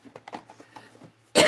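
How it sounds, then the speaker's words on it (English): A person coughs once, sharp and close, in a loud burst at the very end after a stretch of faint, low sounds. "You'll probably hear me coughing, especially if I have to talk a lot."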